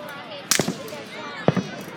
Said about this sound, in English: Can't even see the fireworks.